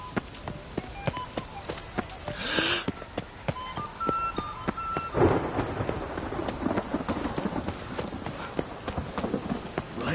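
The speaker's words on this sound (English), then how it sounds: "Rain was coming." Steady rain patters with scattered drops and taps, while a low rumble of thunder rolls through the middle.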